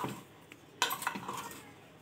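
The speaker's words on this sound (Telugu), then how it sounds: "మొత్తం చక్కగా కలుపుకోవాలి" A spoon scrapes and clinks against a metal pot while cooked coconut rice is stirred with salt, a few soft scrapes and then a sharper clatter, close and quiet, with no voices.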